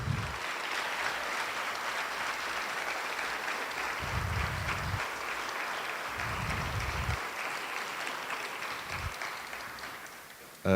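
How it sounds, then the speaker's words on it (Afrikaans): Steady applause from an audience at a school prestige evening, clapping for new learners and their parents, a dense even patter that runs throughout and fades slightly near the end. "Vir oulaas gaan hande klap vir die nuwe leerders en die ouers."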